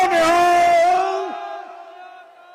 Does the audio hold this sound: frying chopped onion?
no